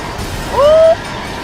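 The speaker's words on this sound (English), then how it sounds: "I like the way you can just drive into a train and it's like, dink!" A brief metallic clink as a car collides with a train in The Crew racing game, a single short ringing tone rising over low engine rumble.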